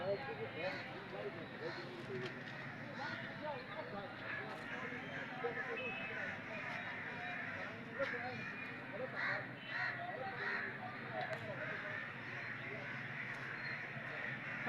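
Crows caw repeatedly in a foggy park, a loud, busy chorus of overlapping calls over steady background noise, with a person talking now and then.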